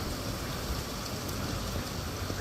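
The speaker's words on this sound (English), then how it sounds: "It's not hail. It's sleet. It's not big enough to be hail." Heavy sleet in a downpour, a dense, loud, continuous hiss of falling ice and water that stays steady throughout, with no voices.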